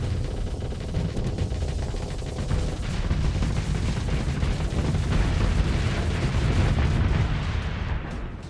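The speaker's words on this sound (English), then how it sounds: "let's man the assault chain guns manually" Assault chain guns firing alongside explosions in a space combat video game, a dense continuous roar of rumbling blasts and rapid fire that swells and holds loud throughout.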